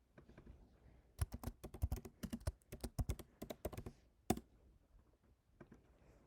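Typing on a computer keyboard while filling in a spreadsheet cell: rapid bursts of crisp, close key clicks in an uneven rhythm, with one louder key strike and a quiet pause afterward, no talking.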